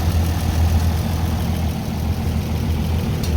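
An antique piece of equipment's engine idles quietly and steadily, a continuous low rumble with even vibration close by and no voices.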